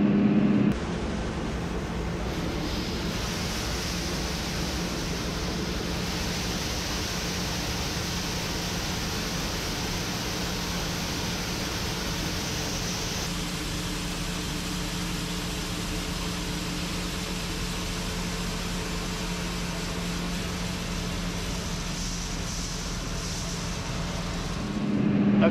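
A combine harvester unloads dry corn into a truck during harvest, heard as a steady, loud mechanical drone and engine hum with broadband whooshing grain flow, continuous and unchanging throughout with no talking.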